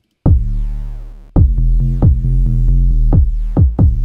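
Deep, rolling sub bass pumps rhythmically, dropping in volume each time a punchy kick drum hits, then swelling back up between beats.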